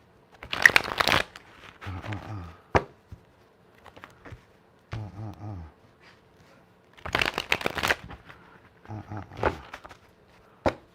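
Tarot cards are shuffled in quick bursts, a few short riffling and flicking flurries separated by pauses, close and crisp with brief soft taps between them.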